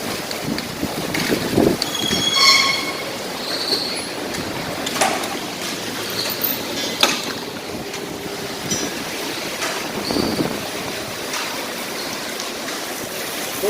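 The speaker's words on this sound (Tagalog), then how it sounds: "Sobrang lakas po ng ulan." Heavy rain pours on a roof or canopy in a UAE sand and rain storm as strong wind gusts buffet the microphone, a dense, continuous roar with surges of rushing noise and no voices.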